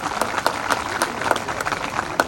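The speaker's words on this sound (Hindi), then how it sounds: "इनके लिए एक बार जोरदार तालियां फिर से बनती है" An audience at a cultural programme for a police training course in Srinagar claps after a performance, a dense run of close handclaps with sharp individual slaps standing out, steady for a couple of seconds.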